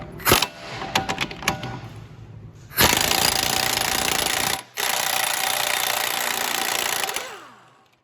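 An impact wrench with a 32mm socket hammers at a rear axle nut on a 2014-2020 Jeep Cherokee: a few short rattling bursts, then a long, loud, sustained hammering run broken by one brief pause.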